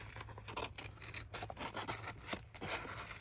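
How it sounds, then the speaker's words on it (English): Scissors fussy cut a paper image for a mini Christmas journal ornament, making a quiet, close run of rapid snipping and rustling strokes with no talk. "But I'm going to fussy cut him."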